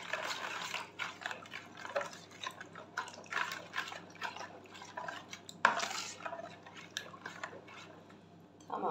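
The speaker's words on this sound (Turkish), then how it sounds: "Ve yine unumu almadan önce bir karıştıracağım malzemelerimi." A utensil stirs eggs and other ingredients for soft poğaça dough in a bowl, clinking and scraping against it in irregular strokes with one sharper knock midway.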